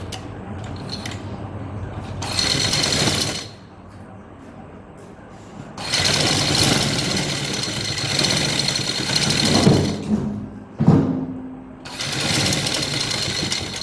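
A sewing machine runs in bursts while stitching a piping strip along a V neckline, with loud continuous whirring stretches separated by brief quieter pauses and a few clicks.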